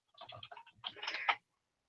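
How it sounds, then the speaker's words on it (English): Quick, light keyboard typing in two short clusters of clicks, faint and close, with silence before and after. "and I'll type that out here"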